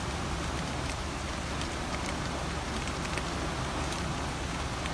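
Rain and hail drum on a car roof during a storm, a dense, loud, steady patter with no break, heard from inside the vehicle.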